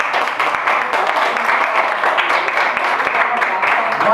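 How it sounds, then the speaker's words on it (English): Steady, dense applause from a senior high school class at the close of a debate, filling the room at a constant level with scattered individual claps standing out. "Give them a round of applause."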